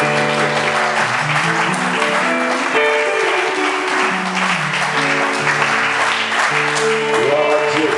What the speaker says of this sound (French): Est-ce que nous pouvons acclamer le roi de l'Église?